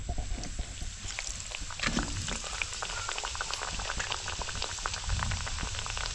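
Potato bhaji fries in hot oil over a wood-fired chulha, a dense, continuous bubbling sizzle with scattered pops, steady and moderately close.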